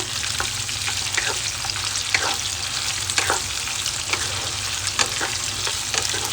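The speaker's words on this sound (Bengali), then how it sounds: "ভেজিটেবলগুলো ঠিক এরকমভাবে একটু ভালো করে নেড়ে চেড়ে মিশিয়ে নিতে হবে, খুব একটা ভাজার দরকার নেই।" Vegetables for chilli fish are stirred as they fry in a pan, giving a continuous sizzle with a string of sharp scraping clicks from the spatula at irregular intervals. Nobody speaks.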